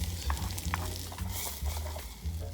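Onions sizzling in a pan on a camp stove at a campground, a steady soft frying hiss with occasional stirring scrapes and low thumps, fairly close and without talk.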